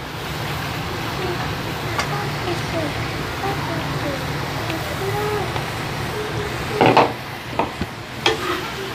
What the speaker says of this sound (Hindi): आपां हुण इहनूं पहलां सिर्फ चिकन नूं मसाले दे विच पा के हिलाउणा है